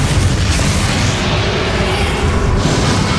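A Bombarda spell goes off in the Hogwarts Legacy video game as a dense, sustained roaring blast. The explosive rumble fills the whole clip at high volume, with no voices over it.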